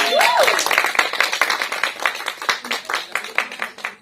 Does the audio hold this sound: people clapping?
yes